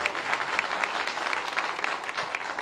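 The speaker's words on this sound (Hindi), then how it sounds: "जोरदार तालियां" Audience applause at a public event with the chief minister Yogi Adityanath in Aligarh, sustained dense clapping from a large crowd heard steadily throughout, with no pauses.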